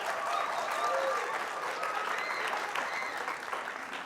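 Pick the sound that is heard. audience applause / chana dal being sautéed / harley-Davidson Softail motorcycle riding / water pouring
audience applause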